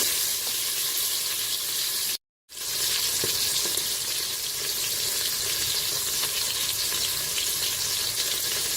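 Lamb pieces browning in a Cookeo multicooker, giving a steady loud sizzle and frying crackle with faint stirring, broken by one short gap of silence near the start.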